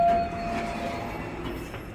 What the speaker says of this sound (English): It has that old 2000s Otis sound.